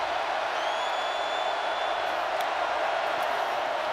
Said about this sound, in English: the crowd comes into it